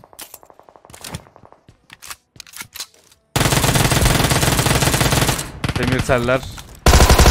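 An Uzi submachine gun fires in a video game, loud rapid bursts of automatic fire dominating the second half after quieter clicking and scraping, with brief speech in the clip.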